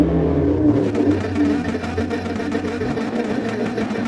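A race car engine in a racing video game drones steadily with a low, rumbling hum, its pitch shifting as the revs rise, loud and continuous throughout, at the Willow Springs circuit.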